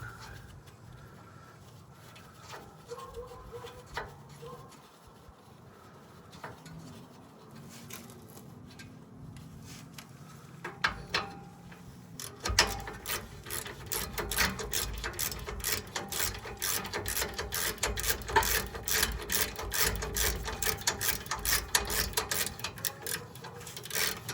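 A ratchet works on a rear brake job, quiet scattered clicks and tool handling at first, then a dense run of rapid, close ratcheting clicks through the second half.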